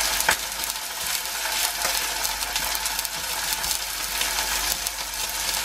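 Rump steak frying in a thick-based pan, a steady, dense sizzle with crackling spatter that holds evenly throughout, close and fairly loud with no voices.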